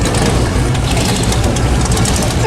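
A supercharged Chevrolet Stingray hot rod with open headers and a wild cam idling at a large hot rod show in Columbus, Ohio, a loud, continuous, heavy rumble that fills the whole stretch.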